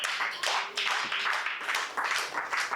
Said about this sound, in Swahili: Makofi mazito.